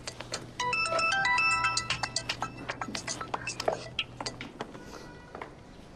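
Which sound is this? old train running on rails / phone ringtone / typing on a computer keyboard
phone ringtone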